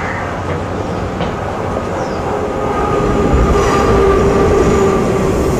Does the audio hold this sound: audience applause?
no